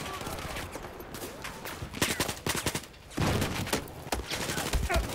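Battlefield 4 gunfire rattles in dense automatic bursts, loud and near, with rapid shots running almost nonstop across the stretch and a few short pauses between volleys.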